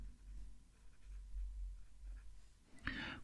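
Leonardo Magico fountain pen with a broad steel nib and shimmer ink scratching softly across paper, quiet close strokes followed by a brief louder scrape near the end.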